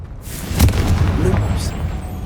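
A Confringo blasting spell explodes in the video game Hogwarts Legacy as one deep boom with a sharp burst, followed by a rumbling tail over steady game ambience.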